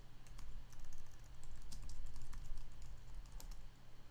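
Rapid, irregular keystrokes on a computer keyboard as a password is typed during a coding session, close and steady for several seconds over a low hum, with no talking.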